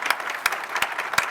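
Applause at a US Marine Corps theater panel on C4 challenges, with a few sharp claps standing out at regular intervals above a steady wash of clapping, fairly close and moderately loud throughout.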